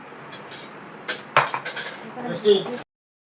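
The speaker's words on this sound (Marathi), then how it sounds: "मसाला व्यवस्थित भाजून घ्यायचा आहे, असा व्यवस्थित भाजून घ्यायचा." Garam masala being stirred and roasted in a pan, with scattered metallic clinks and scrapes of a utensil against the pan, a sharp knock partway through, and someone talking over it.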